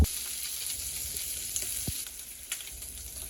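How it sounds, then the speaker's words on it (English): Sausage fries in a pan with a steady, close sizzle that runs the whole time, broken by a few soft clicks and light scrapes, with no voices. "I'm gonna give this a fry on both sides until, again, fully cooked. We're gonna let that fry"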